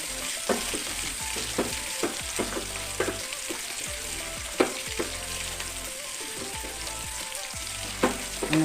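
Ginger, garlic and green chilli fry in a pan for masala dosa filling, a steady close sizzle broken by repeated scraping stirs of a spoon against the pan.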